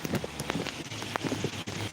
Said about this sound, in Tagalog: Ulan sa amin.